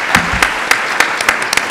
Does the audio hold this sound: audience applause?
yes